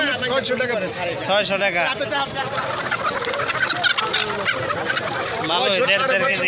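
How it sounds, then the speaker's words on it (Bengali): Chickens clucking at a busy rural poultry market selling pigeons, ducks and hens, the birds heard close and steady beneath continuous bargaining talk and crowd noise throughout. "মুরগি কত করে পিস?"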